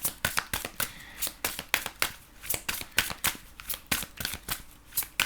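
A deck of tarot cards is shuffled by hand, a close run of rhythmic riffling bursts repeating steadily, roughly two per second, with no speech.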